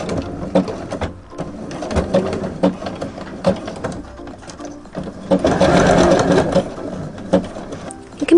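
A sewing machine stitching a coiled rope coaster, its needle chattering in a fast steady rhythm, close and clear, swelling to a denser whir midway before slowing to separate stitches.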